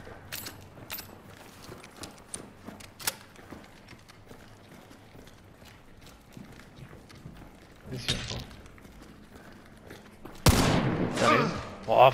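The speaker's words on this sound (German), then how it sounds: "was hat der denn geschossen?" A sharp, loud gunshot rings out near the end of a Hunt: Showdown 1896 match, following quieter footsteps and movement; a voice talks faintly in the background.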